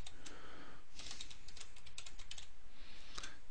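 Someone types a password on a computer keyboard, a quick run of crisp key clicks in small bursts with short pauses between them, close and clear with no talking.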